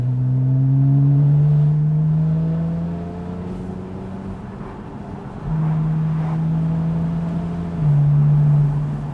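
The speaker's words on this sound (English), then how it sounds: "foot the accelerator, drop 2 gears down" Porsche 911 Carrera S 991.1 with a 3.8 engine accelerating after a two-gear downshift on a test drive, heard from inside: a strong rising engine note, an upshift, then another pull, with no talk.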